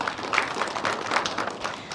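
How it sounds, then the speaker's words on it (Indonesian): Studio audience at a televised dialogue forum claps in a steady, dense patter, moderately loud and continuous with no talk. "Boleh kita tepuk tangan terlebih dahulu?"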